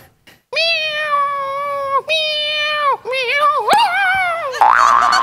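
A person playfully mimics cat meows, a drawn-out series of high, wavering vocal calls of rising and falling pitch, loud and close, ending in a brief burst of sound.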